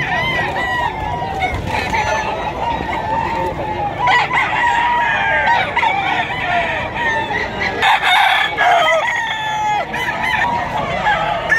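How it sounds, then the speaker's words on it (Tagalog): Lemon-colored gamecock roosters crow repeatedly amid a busy, predawn Bocaue, Bulacan pet market, calls rising over steady crowd noise and clucking, with people talking throughout. "Ito mga tol, lemon cock."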